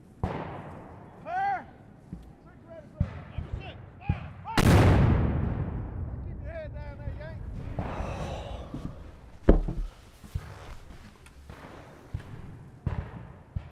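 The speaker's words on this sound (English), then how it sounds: "Too close to the cannons out there." Heavy film cannon artillery blasts boom out amid battlefield noise, one huge roar near the middle, with scattered shouts and cries around the firing.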